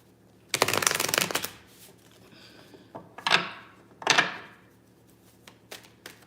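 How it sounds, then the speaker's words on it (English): A deck of cards is shuffled in several crisp riffles, a long burst first and then shorter bursts with quiet gaps between, close and clear with no talk. "Just shuffling up the cards real good."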